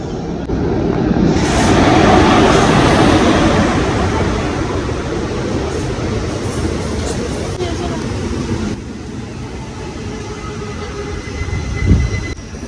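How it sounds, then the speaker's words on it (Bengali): A passenger train pulls into a station in North Bengal, making a loud, sustained rumble of wheels and cars rolling past close by. The noise swells early, then eases off slightly, and ends with a brief clank. "5:08 টাইম ছিল, এখন 5:25 এই ঢুকছে ট্রেন।"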